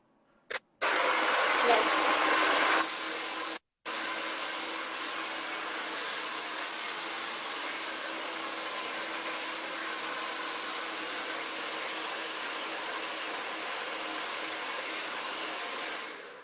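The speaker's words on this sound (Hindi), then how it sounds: "हल्का हल्का क्विकली ब्लो ड्राई करना है" A hair dryer blow-drying hair: a loud, steady close-up roar that starts abruptly, briefly cuts out and restarts, then holds continuously.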